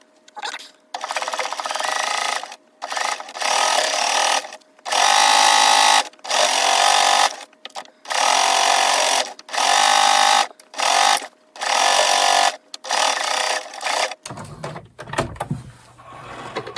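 A sewing machine stitches close to the upper edge of a pair of kids' shorts: about ten loud, close whirring runs of varying length, separated by brief pauses, before it stops and only faint handling noise is left.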